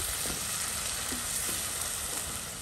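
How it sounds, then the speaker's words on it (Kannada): Ground masala paste of ginger and spices frying in a pan for egg masala curry, a steady broadband sizzle with faint stirring scrapes, close and continuous, no voices. "ಈಗ ರುಬ್ಬಿರುವ ಮಸಾಲನ್ನ ಹಾಕುವ. ಇದರ ಹಸಿ ವಾಸನೆ ಹೋಗುವವರೆಗೆ ಇದನ್ನ ಚಂದ ಮಾಡಿ ಹುರಿಬೇಕು."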